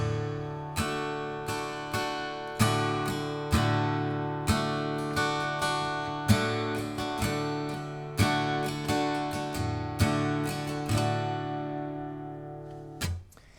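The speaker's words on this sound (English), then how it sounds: "So first up, we've got feather, which is, again, your very kind of light, delicate strumming." Light, delicate acoustic guitar strumming with a pick, roughly fifteen soft strokes in a steady, even rhythm, each ringing chord decaying before the next, close and quiet with no voices.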